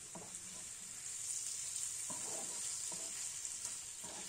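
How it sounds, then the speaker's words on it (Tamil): Prawns fry in hot oil for a spicy prawn fry, a soft steady sizzle with occasional scraping stirs of a spatula in the pan. "அந்த ஆயிலில் நல்லா இந்த மாதிரி ஃப்ரை பண்ணி விடுங்க."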